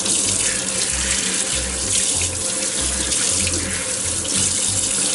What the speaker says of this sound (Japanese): お腹と、 そしてこちらの胴体の方を一旦水洗いしておきます。